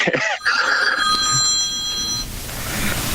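A telephone rings with a bright electronic trill during a podcast recording, close and loud at first and then fading, over a steady room background.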